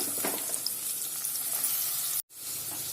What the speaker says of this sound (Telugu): ఇప్పుడు దీంట్లో మనము సన్నగా కట్ చేసుకున్న ఉల్లిపాయల్ని వేసుకోవాలి దీన్ని బాగా రెడ్గా వేయించుకోవాలండి